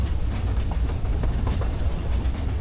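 Tourist train ride at Iguazu Falls, a steady rumbling rattle of wheels and carriages with faint clickety-clack, continuous and fairly close.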